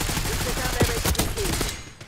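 Gunfire in a Call of Duty video game battle: dense, continuous bursts of shots fill the mix at steady loudness, with sharp cracks and brief whistling tones standing out amid a noisy combat background, and voices faintly under the din.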